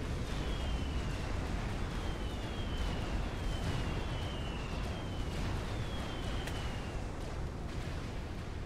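Heavy battle cruiser firing iron cannons during a Supreme Commander real-time strategy battle, a continuous rumbling barrage of deep booms with faint whistling shells streaking overhead, steady and loud throughout.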